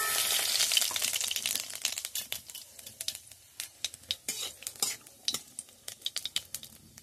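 Nigella seeds and dried red chilli fry in mustard oil, first a bright, dense sizzle, then dying into sharp crackles and pops mixed with spoon scrapes against the pan.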